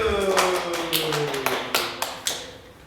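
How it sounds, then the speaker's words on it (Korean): Children at a Korean church children's worship service give a round of applause: several sharp claps ring out over a sustained sung or spoken tone, fairly close and moderately loud. "박수."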